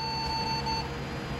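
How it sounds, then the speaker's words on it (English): A single steady electronic BIOS beep from a Slot 1 Pentium 3 desktop PC, a clear high tone lasting under a second over a constant low fan hum. "BIOS beep code."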